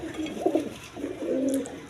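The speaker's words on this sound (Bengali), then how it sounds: "এইখানে এক পেয়ার ব্ল্যাক কালার সিরাজি লাহোরি কবুতর দেখেন" A pair of black Sirazi Lahori pigeons coo close by in soft, low, rolling bursts, with a brief pause between calls.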